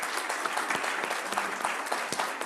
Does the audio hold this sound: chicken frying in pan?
no